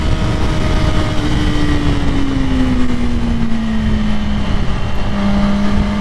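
Ducati Panigale V4R motorcycle leaned through a corner, its engine a steady loud drone with a slowly falling pitch as it passes, continuous throughout with no voices.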